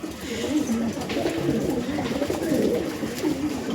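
Domestic Andhra breed pigeons kept in a loft coo continuously nearby, their low throaty rolling calls overlapping in a steady murmur throughout.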